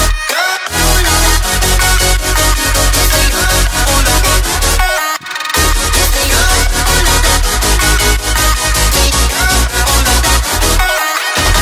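Heavy future bass synth layered with deep sub bass, soloed: dense, loud chopped chords pumping in rapid rhythmic stabs with a brief drop-out gap midway, sustained at full level throughout.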